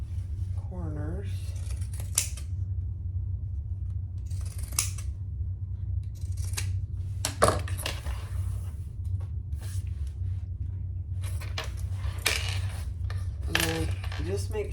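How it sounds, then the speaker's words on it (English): Pinking shears snip repeatedly through fabric while trimming around the corners of a sewn crossbody bag, crisp close-up cuts in irregular bursts over a steady low hum. "I'm gonna trim with my pinking shears around my"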